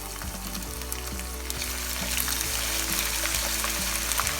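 Golden-brown onions with garlic-ginger paste fry in a pan, giving a loud, dense sizzle throughout with the periodic scrape of stirring, close and steady.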